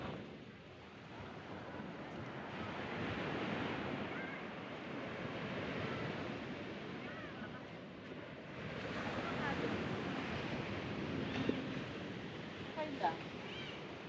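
Sea waves wash and break on the beach at Casiguran, Aurora, in a continuous soft roar, with wind blowing across the microphone throughout.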